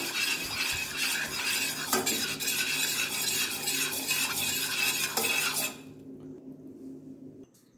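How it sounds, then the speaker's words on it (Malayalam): A spoon stirs a lemon and ginger drink in a vessel, a busy run of close scraping and clinking that stops abruptly near the end, leaving a quiet hum, with no speech. "ഇനി ഇത് നന്നായിട്ട് ഇളക്കി കൊടുക്കുക."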